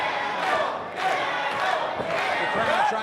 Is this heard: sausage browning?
no